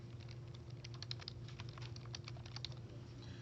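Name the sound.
typing a name on a computer keyboard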